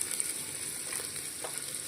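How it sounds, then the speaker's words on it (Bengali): Cumin seeds spluttering in hot oil inside a pressure cooker give off a steady, fairly quiet frying crackle with a constant high hiss and a few faint pops, and no voices. "তো তেলটা প্রেসার কুকারে গরম হয়ে গেছে, আমি এখন জিরে ফোড়ন দিয়ে দেবো।"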